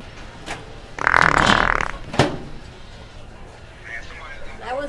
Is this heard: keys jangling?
no